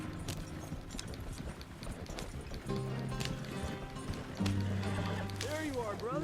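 Rhythmic clip-clop of galloping horse hooves in Red Dead Redemption 2, mixed with game effects and music, with voices talking over it.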